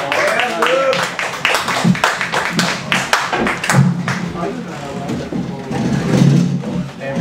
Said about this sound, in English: Big round of applause for Luke Herberman.